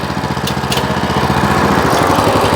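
A walk-behind tractor engine runs loud and close while the machine drives along farm ground, a steady chugging drone with a slight rise in intensity partway, and no voices heard.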